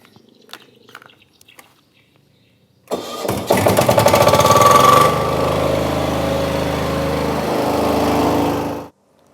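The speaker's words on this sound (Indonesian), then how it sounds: "Kita nyalakan dulu gensetnya ya" A generator set engine cranks and catches with a loud burst, then settles into a steady, close mechanical drone that runs for several seconds before cutting off abruptly, following quiet background clicks.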